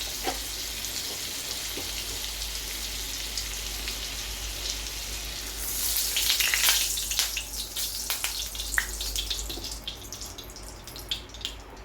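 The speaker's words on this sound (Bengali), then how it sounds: "পনিরটাকে আমি একটু জাস্ট সাঁতলে নেব" Paneer sautéing in a pan of white oil and a little butter: a soft, steady sizzle swells into louder, crackling frying about halfway through, with sharp pops and spatters, and no voices.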